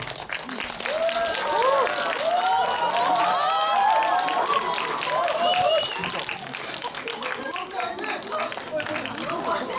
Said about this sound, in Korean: 입장하실 때 큰 박수로 맞아주세요